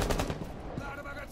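Rapid automatic gunfire from Rainbow Six Siege, a quick burst of close, repeated shots fading over about a second, with faint voices in the background.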